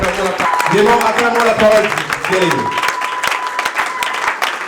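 A church congregation breaks into loud, dense applause that carries on throughout, while a voice speaks over the clapping.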